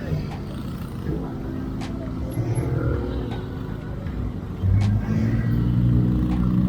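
A motorcycle with a rectifier-regulator fault and low electrical supply runs nearby with a rough, sputtering drone that swells louder toward the end, while a voice talks over it.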